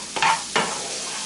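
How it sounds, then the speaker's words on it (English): Flour is stirred into sausage grease in a pan for gravy. Two quick scraping sweeps ride over a soft, steady sizzle, close and brief. "I'm just going to stir that in, make sure that's absorbing all that."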